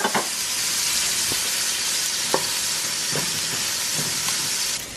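Rice frying in a pan for a weeknight dinner, a steady loud broadband sizzle that fills the whole clip, broken by a few soft scraping and stirring knocks, with no talking.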